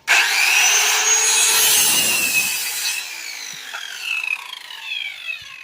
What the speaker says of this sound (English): Right, now I'm going to cut this handrail off.